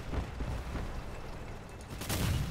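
Booming 76 mm cannon blasts rumble through a dense, noisy Crossout game mix, with a heavier hit near the end.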